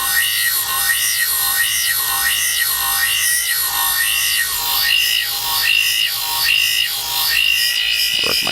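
A knife edge is honed with polishing compound on an Ookami Gold convexing clamp, giving a loud, steady back-and-forth rasping stroke that repeats about every half second, with no talking.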